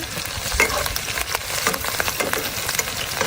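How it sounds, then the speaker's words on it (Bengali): Chopped onion and green chili added to hot oil, frying with a loud, continuous sizzle and crackle up close, broken by bursts of stirring and spatula scrapes. "তেল গরম হয়ে গেছে এখন আমি পেঁয়াজ কুচি আর মরিচ কুচিটা দিয়ে দিব"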